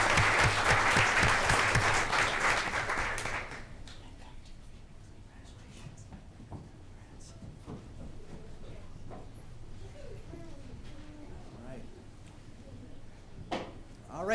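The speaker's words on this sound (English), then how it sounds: "how about another round of applause for these great third graders?" Audience applause for third graders at a school board meeting, a burst of many hands clapping for about three seconds before dying away into room murmur and scattered talk.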